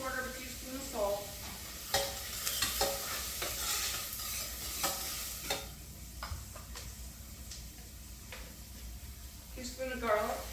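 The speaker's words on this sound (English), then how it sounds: "I am just going to saute them until they're translucent." Onions sautéing with salt in a pot on a medium burner, a soft low sizzle beneath repeated wooden spoon stirring and scraping, with a person talking over it.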